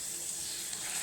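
Poori frying in hot oil during breakfast cooking, a steady, even sizzle that crackles continuously throughout at a moderate level.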